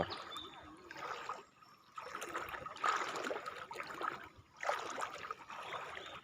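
Floodwater flows through a flooded municipal area of Phibun Mangsahan in Ubon Ratchathani, a steady rushing and trickling wash that swells and eases in pulses, moderately close and heard alone.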